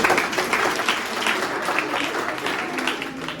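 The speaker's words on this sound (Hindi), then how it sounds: "1 लाख रुपए मिलने वाला है, इसके लिए ताली बजाओ" An audience at a topper celebration for board-exam students bursts into sustained, dense clapping, a steady wash of many hands at fairly close range with no pauses.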